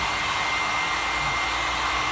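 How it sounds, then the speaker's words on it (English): A heat gun warms a motorbike graphics sticker, producing a constant loud blowing whir with an airy hiss that holds steady throughout and no speech over it. "all I'm going to do then is grab my heat gun"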